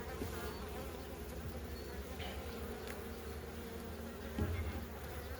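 Bees buzz steadily around an open hive being tended, a close continuous drone with a brief louder swell near the end and no speech.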